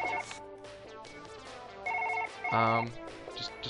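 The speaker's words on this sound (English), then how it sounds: "Phone's ringing." A telephone ringing in the Surgeon Simulator video game, bursts of a bright electronic bell tone repeating close and fairly loud amid faint game sounds.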